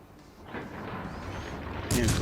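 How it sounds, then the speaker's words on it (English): Warship guns firing shells in World of Warships Legends: a rumbling roar builds under a speaking voice, then a sharp, loud blast breaks in near the end. "I'll fire a few shells just in case I get lucky"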